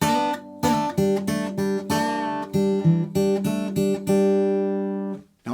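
Acoustic guitar picks out a riff, a string of strummed and plucked chords with short gaps and a sustained final chord ringing out, close and clear with no voice.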